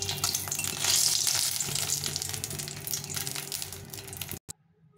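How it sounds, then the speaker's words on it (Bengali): Dried red chilies frying in mustard oil in a pan, a steady crackling sizzle that fades, then cuts off abruptly near the end. "সরষের তেল দিয়ে আমি লঙ্কাগুলো ভেজে নেব"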